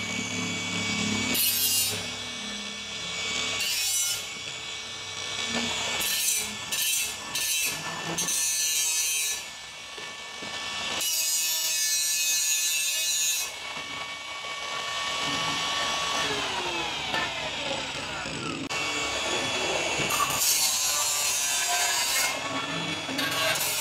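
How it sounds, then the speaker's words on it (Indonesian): ProQuip cutting wheel on an angle grinder trimming a cut edge: continuous high grinding whine with shifting pitch and intermittent harsher bursts as the wheel bites, close and steady for the whole stretch, no talk. "mungkin Anda akan rapikan langsung dengan cutting wheel ini"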